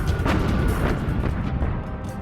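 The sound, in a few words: heavy gunfire in naval battle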